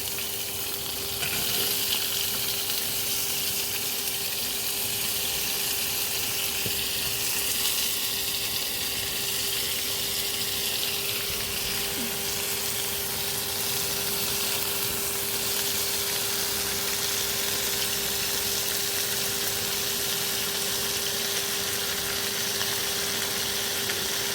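Papaya, yardlong beans and peas fry in a wok with a steady, even sizzle that holds at a constant level throughout, with no voices over it.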